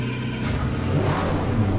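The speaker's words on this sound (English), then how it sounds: "Oh, I've got to turn the engine on." A McLaren race car in Assetto Corsa Competizione fires up and revs, a loud, steady engine drone that swells briefly, with no talking.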